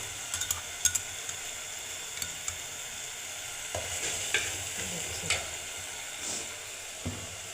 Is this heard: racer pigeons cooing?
no